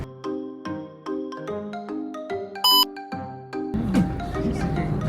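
A cellphone rings with a repeating electronic melody, loud and close, in steady repeated phrases, before noisy crowd and street sound takes over near the end at a tourist site in Cairo, Egypt.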